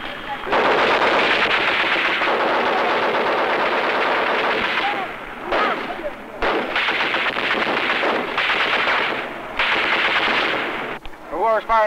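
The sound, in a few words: machine gun firing in Vietnam War combat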